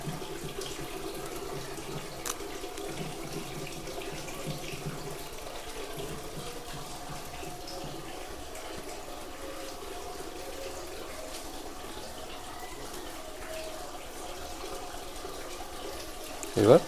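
Water is poured from above over a jade plant bonsai whose roots are wrapped over dead wood and covered with cloth, producing a steady, continuous, fairly soft stream that runs unbroken for the whole stretch.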